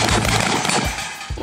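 Gunfire at a practical shooting competition on a range in Russia: several loud, close shots in quick succession, with sharp percussive bursts spaced a fraction of a second apart.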